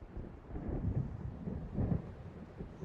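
Low, rolling thunder from an approaching storm in the video game Alan Wake, a continuous rumble with two heavier swells, steady and fairly faint with no voices.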